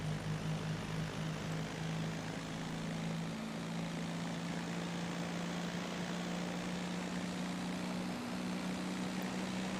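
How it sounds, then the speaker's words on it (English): A propeller plane engine in the racing video game Test Drive Unlimited 2, a steady, even drone with a low hum that stays constant and fairly loud for the whole stretch, with no talking. "It sounds like a prop plane."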